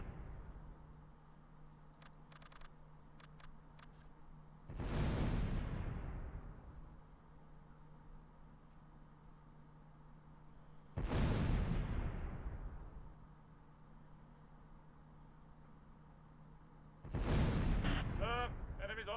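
Mortar fire in Close Combat Last Stand Arnhem, three heavy booming explosions spaced several seconds apart, each rolling off slowly, over a low steady background hum.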